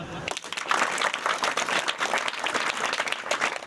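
Audience at a guidance lecture breaking into a burst of applause, dense overlapping claps from a roomful of people that swell quickly and stay steady to the end, fairly close.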